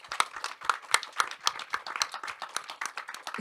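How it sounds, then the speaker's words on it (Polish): Press conference audience clapping for the whole team, a brisk run of distinct, fairly close handclaps that starts sharp and loosens into scattered, uneven clapping. "bardzo poproszę tutaj o brawa dla całego"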